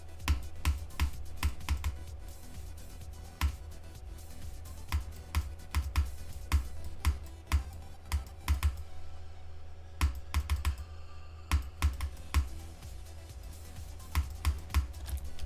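Rapid keyboard clicking from playing Geometry Dash Demon Pack 10 map packs, with dense bursts of sharp, close key taps in an irregular, frantic rhythm that continues throughout, pausing briefly only once.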